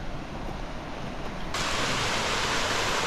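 Rushing water from a cascade on the Ilomska river on Vlašić mountain: a steady, dense broadband roar that grows noticeably louder and brighter about halfway through, with no voices.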